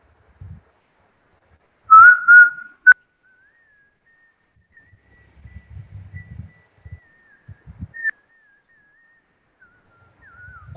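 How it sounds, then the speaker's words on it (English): A person whistling a tune into a microphone at the close of a speech, a few loud clear notes followed by a long, faint, wavering whistled melody, with scattered low thumps and rustles. "I will conclude my speech with a whistling experiment."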